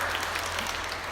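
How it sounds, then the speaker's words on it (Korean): A church congregation applauds together during a Sunday worship service, giving a short, even burst of clapping that sounds fairly soft and slightly distant. "우리 박수로 한번 격려하겠습니다."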